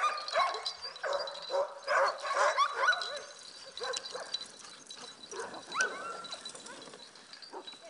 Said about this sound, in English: dog sledding is a whole lot of fun, but it's also about perseverance and teamwork